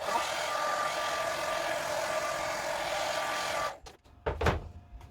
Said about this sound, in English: I'm going to heat it up a little bit to help me move that, just with a hairdryer